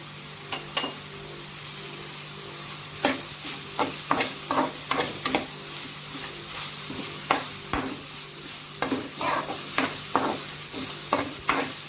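Ginger garlic paste frying in a pan for Mumbai-style pav bhaji, a soft sizzle that builds into a busy run of clattering spatula strokes against the pan, close and fairly quiet.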